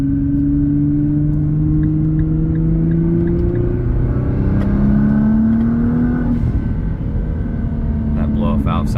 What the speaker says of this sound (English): So this is what it sounds like when driving the vehicle.